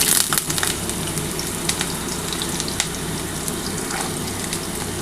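Potatoes and drumsticks go into hot oil tempered with five-spice, setting off a steady close crackling sizzle with small pops and spatters.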